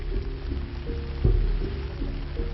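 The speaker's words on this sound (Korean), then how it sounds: "빗방울이 굵어진 저녁 시간" Heavy evening rain pattering steadily on surfaces near a shantytown, a continuous close wash of drops with a few louder thuds.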